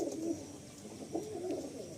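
A Madrasi pigeon, a female, coos in low, repeated purring phrases close by, with faint background hiss and no talking.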